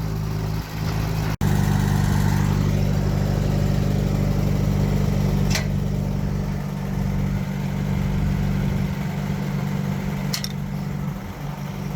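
A $300 budget tractor engine runs steadily close by, a constant low rumble held throughout with a brief sharp knock near the start and faint clicks later on.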